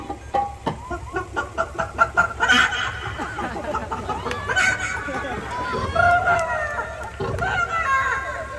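Several people take turns imitating a rooster's crow with their voices, with laughter and chatter between the cock-a-doodle-doo calls.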